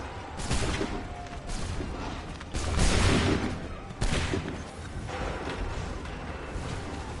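Soldiers fire musket volleys in Assassin's Creed 3, several loud crackling bursts spaced a few seconds apart, with a continuous battlefield din between them.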